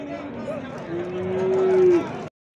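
A pregnant cow gives a long, low moo that rises and swells before cutting off, over a noisy background of murmuring voices and crowd bustle at the Gʻijduvon livestock market in Uzbekistan.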